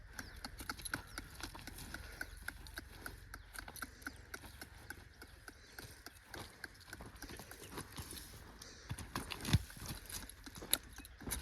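Hooves of a newly bought mare clip-clopping in an uneven, steady rhythm at moderate distance, with faint jangling and scattered knocks around the footsteps.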